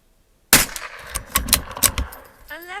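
A Tikka T1 rifle fires Remington Thunderbolt .22LR rounds at a 50-yard range, several sharp close cracks spaced irregularly, each with a brief ringing tail, ending in a faint metallic ping.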